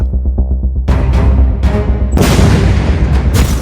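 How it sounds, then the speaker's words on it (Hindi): Explosion blasts tied to the Israel–Hamas conflict: after a low rumbling lead-in, several loud broadband booms hit in quick succession, dense and close, with no voices. "पहला धमाका"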